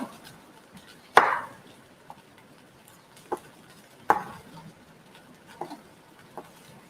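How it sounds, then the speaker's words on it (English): A knife cutting wintermelon into small cubes for a quick fish soup: two sharp chops stand out, with several lighter taps between them, close and fairly quiet with no talking. "you just cut it very small into cube, right?"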